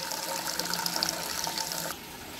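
Hot tap water gushes steadily into a container for detergent for washing a fleece, then cuts off near the end.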